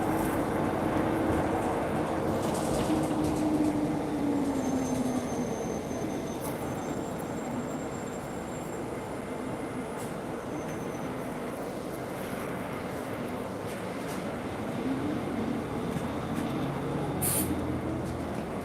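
Inside a loud TTC city bus, a constant heavy engine and road rumble fills the cabin, with faint rising whines and brief high squeaks over it.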